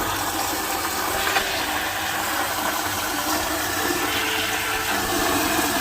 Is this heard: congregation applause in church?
no